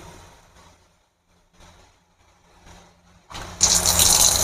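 Water from an RO purifier's side filter inlet starts with faint intermittent trickles, then bursts into a loud, steady rushing gush near the end.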